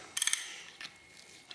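Ratchet fitted with a 15/16 socket loosening a spark plug on a Ford 3V 4.6 or 5.4 engine: a quick burst of several close, sharp clicks, a pause with a faint tick, then another short click run at the end.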